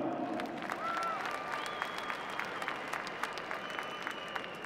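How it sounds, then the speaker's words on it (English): Crowd applauding at the trophy presentation after the 2001 All-Ireland Club hurling final between Athenry and Graigue-Ballycallan, a distant, sustained spatter of clapping with whistles rising above it. "give them a round of applause"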